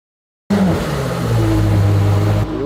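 A Koenigsegg Jesko's engine starts abruptly and holds a loud, close, rising drone with a deep steady tone, then drops slightly near the end, heard alone without voices.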